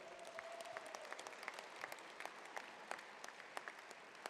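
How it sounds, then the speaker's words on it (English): A round of applause rises at a football foundation's national awards dinner as an honoree is called up, a continuous, moderately distant patter of many hands with distinct sharp claps popping through. "a round of applause for her to come up here"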